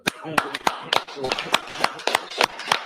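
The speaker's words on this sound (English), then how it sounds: "Clap it up." Audience clapping at an I.S.U.P.K. Feast of Tabernacles gathering in San Antonio, sharp separate claps at an irregular, fairly quick pace, with speech going on underneath.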